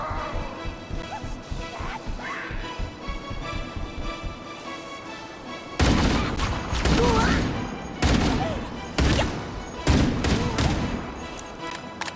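Enemy gunfire in the video game Halo: Campaign Evolved: a quieter stretch of game noise gives way to loud, close bursts of rapid shots and crashing impacts, with short gaps between the volleys.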